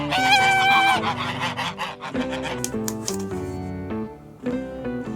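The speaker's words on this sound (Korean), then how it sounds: "duck," A toy farm animal puzzle plays a duck quacking sound effect: a loud run of nasal, honking quacks at first, then a lower, buzzy series of repeated calls with short pauses between them.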